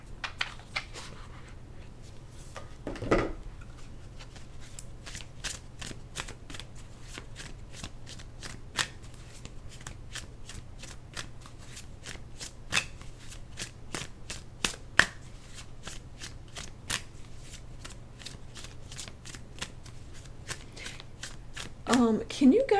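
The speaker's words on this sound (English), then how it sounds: "Let's see if I can get some more cards on it." Tarot cards are shuffled for a reading, a long run of quick, crisp riffling clicks at a steady pace, soft and close, with a brief louder rustle near the start and near the end.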